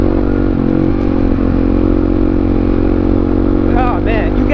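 Honda XR650R supermoto engine droning steadily under way at moderate speed, a continuous throbbing single-cylinder rumble with some rattle, close and loud throughout, with a voice briefly chattering over it near the end.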